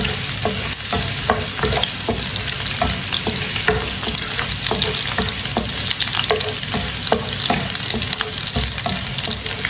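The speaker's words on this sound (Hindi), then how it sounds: "थोड़ा सा बारीक कटा हुआ लहसुन डालेंगे। इसे हल्का सा ब्राउन कर लेंगे लहसुन को।" Finely chopped garlic fries in oil with a steady, busy sizzle close by, punctuated by repeated clinks and scrapes of stirring, with no talk.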